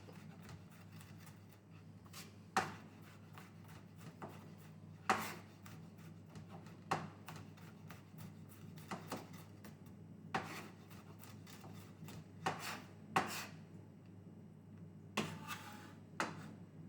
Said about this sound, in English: I'm not going to crush it, I'm just going to chop it up.